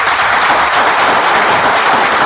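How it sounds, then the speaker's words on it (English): An audience at a storytelling show breaks into a round of applause, dense, loud and sustained clapping from a full room, heard alone. "I want to give you a round of applause."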